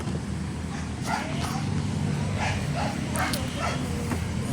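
A puppy gives several short, high yips and barks, moderately close, spread across a few seconds over a steady background hum.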